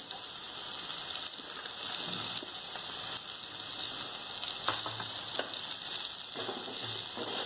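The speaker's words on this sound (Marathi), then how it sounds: "हे सर्व हलवून घ्यायचं चांगलं।" Semolina (rava) roasting with onion and salt in a pan gives a steady broadband sizzle, with scraping stir strokes from a spoon across the pan surfacing now and then.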